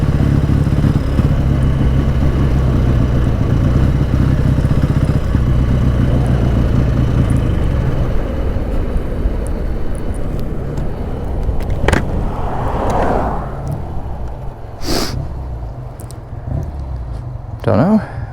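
BSA Super Rocket motorcycle engine running in winter, a steady loud rumble that dies away midway as it cuts out, leaving quieter handling clunks and a few sharp knocks near the end.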